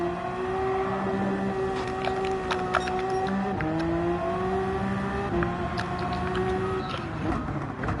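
A race car engine drones steadily through the Nürburgring in Gran Turismo 7, its tone rising and falling through gear shifts at close range with no talking.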